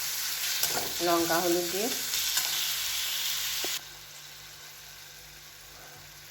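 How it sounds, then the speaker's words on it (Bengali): Ginger-tomato paste sautés with prawns in a pan, a close hissing sizzle with stirring clatter and a brief spoken phrase, then cutting abruptly to a much quieter background hum for the last few seconds. "এই যে আদা টমেটো বাটা আছে ওইটা দিয়ে দেবো। দিয়ে একটু কষিয়ে নেব"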